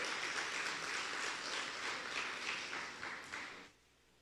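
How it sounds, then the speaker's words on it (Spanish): Crowd applause at a church baptism service, a steady wash of many hands clapping at moderate volume for several seconds before stopping abruptly near the end. "Dale fuerte el aplauso"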